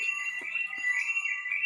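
An alarm going off, a steady high electronic tone holding unbroken through the short stretch with faint ticks underneath.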